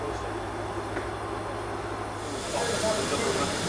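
A steam locomotive on a New Zealand bush railway hisses steadily at close range, a broad continuous rush with low rumbling underneath that swells slightly louder near the end.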